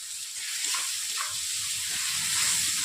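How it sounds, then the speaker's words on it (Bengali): Garlic paste and onions sauté in a pan for a curry, giving a steady, close sizzling hiss with faint stirring scrapes beneath and no talking. "রসুনগুলোকে আমি এক থেকে দু মিনিট নিয়ে নিয়েছি পেঁয়াজের সঙ্গে কষিয়ে নিচ্ছি"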